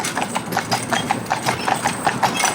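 Hooves of an ill-matched pair of Friesian horses pulling a carriage clip-clop in a steady, brisk rhythm, many quick overlapping strikes close by on a hard road.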